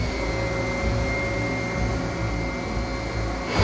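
A mattress cleaning machine works like a vacuum cleaner and blows hot air, giving a steady, loud, droning whine with a sustained tonal hum and no break, heard up close on its own.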